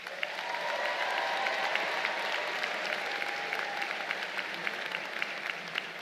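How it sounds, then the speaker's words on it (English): An audience at a Class of 2023 graduate commencement ceremony at the Citadel applauds steadily, a dense wash of many hands clapping that holds evenly throughout, moderately distant in a large hall. "Please give them a round of applause."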